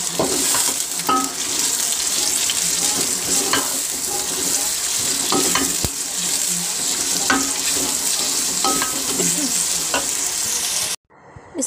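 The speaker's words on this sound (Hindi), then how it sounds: "मैंने प्याज जो है वो तेल में डाल दी है। अब इसको फ्राई कर लेते हैं" Onions frying in oil in a pot for aloo gosht, a loud steady sizzle with repeated scraping and clinking of a stirring spoon, continuing until an abrupt stop near the end.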